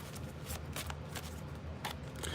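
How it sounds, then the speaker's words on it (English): Tarot cards are shuffled in quick, crisp riffling bursts, close and fairly quiet, repeating several times with no talking. "Two more shuffles."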